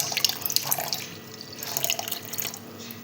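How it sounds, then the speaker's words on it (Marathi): Water poured into scooped yogurt while making rose lassi, a close, splashy trickle with small drips that rises and falls over a few seconds. "आता आपण त्यात टाकूया थोडंसं पाणी."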